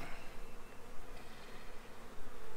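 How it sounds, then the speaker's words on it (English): Honey bees buzzing inside an open hive during a spring inspection, a steady dense hum of many insects close by, fairly soft and continuous with no talking. "Got a lot of bees down bottom."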